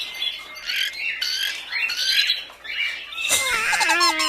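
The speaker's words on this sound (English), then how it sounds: "It's a parakeet, explained Papa. Parakeets can imitate sounds they hear, even words" A parakeet gives loud, harsh squawks and chattering calls up close, rising into a sharper, more piercing squawk near the end.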